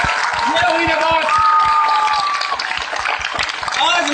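A seminar audience claps with both hands raised: quick, irregular claps run beneath a loud, close voice that talks through the whole stretch.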